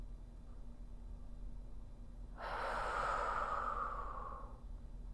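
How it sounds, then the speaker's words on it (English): Slow belly breathing during a hatha yoga class, a single long, close, breathy exhale or inhale through the mouth rising out of quiet room tone and fading after about two seconds, with no talking. "It's called belly breathing."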